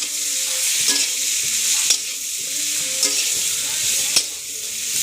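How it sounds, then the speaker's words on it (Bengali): Cabbage and potato fry in a hot pan with a constant sizzle, while a spoon stirs and scrapes against it in a few distinct, sharp strokes spaced about a second apart, with no talking. "এবার কিন্তু একটু নাড়াই চড়াই নিতে হবে"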